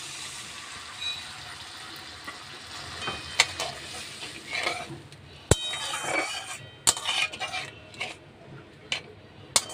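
Mustard paste with two cloves of garlic is added to hot oil and spices and stirred, giving a steady sizzle with scraping and clinking of a utensil against the pan, close and fairly loud, with no talk.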